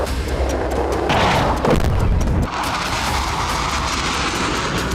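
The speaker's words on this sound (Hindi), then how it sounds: "इजरायल ने लेबनान की तरह ही सीरिया में भी बमबारी शुरू कर दी है।" Israeli bombing explosion, a heavy rumbling blast swelling into a loud roar of debris and noise that lingers across the clip, with no voices.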